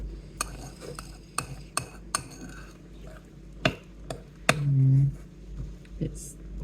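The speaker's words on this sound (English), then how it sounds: "I know it sounds weird using a fork to stir it" A fork stirs diet shake powder in a container, giving a series of sharp, scattered clinks and taps at an uneven pace, fairly close and moderately quiet.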